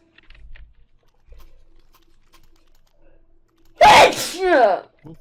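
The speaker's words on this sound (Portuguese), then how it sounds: "Eu tô um pouco melhor de espirrar" Faint keyboard typing clicks are followed by one loud, close sneeze with a sharp intake and explosive burst, heard on its own.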